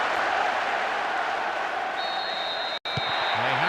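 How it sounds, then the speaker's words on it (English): Crowd applause and cheering from a football match in PES 2010 on PS2, a steady broad roar filling the stadium after a penalty goal, with a brief cut near the end. "The crowd giving both manager and..."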